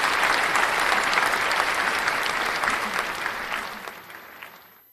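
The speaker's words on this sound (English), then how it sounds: "Round of applause for y'all." Audience applause rings out loud and sustained, a dense wash of clapping that holds steady before fading away at the end.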